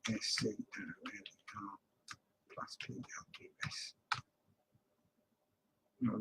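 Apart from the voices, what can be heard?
typing on a computer keyboard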